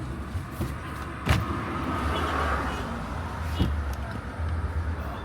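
A car drives along a road toward Accra in Ghana, its steady engine and road rumble filling the cabin, with a couple of soft knocks and light rattles.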